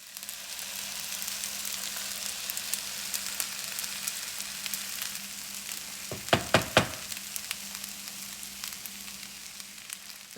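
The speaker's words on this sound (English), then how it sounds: "Then add the beaten eggs to the center of the pan." Beaten eggs frying in a hot pan beside longganisa fried rice, a steady close sizzle that runs throughout, broken near the middle by a few quick clacks of a utensil against the pan.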